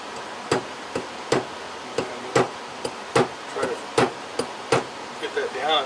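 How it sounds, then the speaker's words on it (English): A steel chasing hammer with a wide face strikes a metal ring on a mandrel, about a dozen sharp metallic taps at an uneven steady pace, close and loud, with brief pauses between blows. "I'm going to use a chasing hammer because I like that nice wide face."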